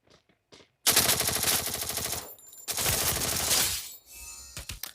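Thompson submachine gun firing in a video game, two long sustained automatic bursts with a brief pause between, loud and close, ending in a few scattered shots.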